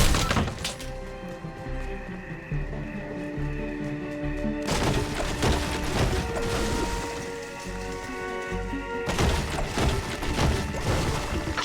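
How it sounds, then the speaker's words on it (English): Cars and trees are smashed for crafting materials in the video game Fortnite: Save the World, a dense, loud run of repeated crashing, shattering and thudding impacts in two long bursts with no talking. "Try smashing up some cars and trees."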